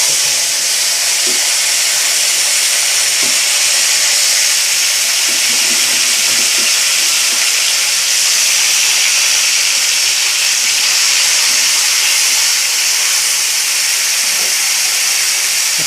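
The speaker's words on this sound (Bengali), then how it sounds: "মাছ একসাথে ভেজে নিই" Small fish frying together in hot oil in a wok, giving a loud, steady, close hiss that runs unbroken throughout with no voices.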